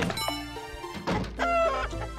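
Chickens cluck in the Oshibana Monogatari video game, short pecking clucks and a brief higher squawk over a soft musical background, moderately close and without talk.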